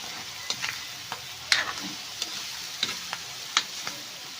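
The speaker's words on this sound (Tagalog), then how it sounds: "Halo ulit para malusaw yung nor." Pancit noodles being stirred in a hot frying pan with Knorr seasoning, a steady soft sizzle broken by a series of sharp scraping taps of the utensil against the pan at an irregular rhythm.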